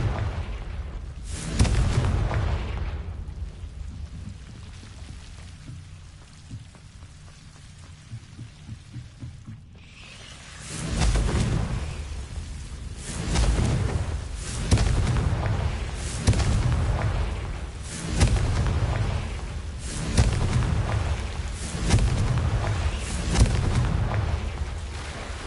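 A string of Confringo fire-spell explosions in the video game Hogwarts Legacy: loud, deep booms with rumbling tails, one early and then a steady run of repeated blasts after a quieter stretch.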